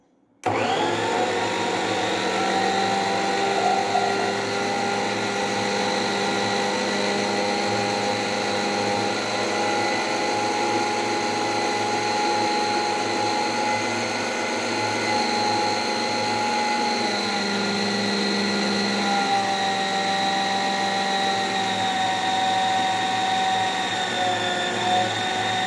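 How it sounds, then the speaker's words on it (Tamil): A mixer grinder kneading chapati dough as water is added runs steadily with a loud, continuous whirring motor hum, starting abruptly and holding an even drone throughout. "இப்போ நம்ம மிக்ஸி ஆன் பண்ணி தண்ணியை கொஞ்சம் கொஞ்சமாக உள்ளே சேர்த்துக்கோங்க."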